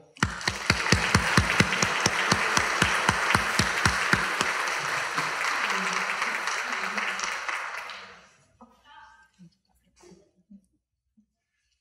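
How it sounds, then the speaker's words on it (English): Audience applause for a speaker at a talk, dense steady clapping for about eight seconds that fades out, followed by near silence with a few faint sounds. "Please give a round of applause for Dr."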